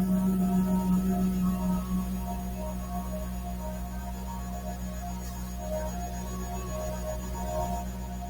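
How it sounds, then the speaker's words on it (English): A person hums a steady low tone on a slow exhale during a throat chakra breathing exercise, sustained and close, fading slightly after the first couple of seconds over a faint background hum. "and exhale with a hum."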